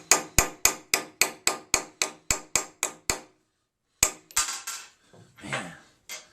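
A hammer tapping a socket while a Uni-Plow pump is taken apart: about a dozen sharp, evenly spaced metallic strikes close by, a brief silence, then a few heavier knocks and clattering.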